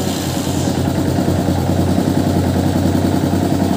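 A motorcycle engine idles steadily up close with its lights off, a loud low chugging rumble with a faint mechanical clatter, no voices.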